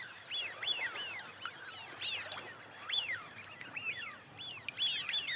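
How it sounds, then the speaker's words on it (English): Eurasian wigeons feeding on Chilika Lake, with repeated rising and falling whistled calls from several birds over steady open-water background noise, moderately close and continuous. "for these Eurasian widgeons, it's time to replenish their reserves after a long journey"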